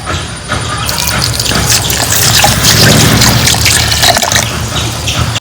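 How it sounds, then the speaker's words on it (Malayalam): Water poured into a pan while cooking, a loud continuous splashing trickle close by that runs for several seconds with a faint mechanical hum underneath. "ഇതിലേക്ക് ആവശ്യമുള്ള വെള്ളം കൂടി ചേർത്ത് കൊടുക്കാം കേട്ടോ"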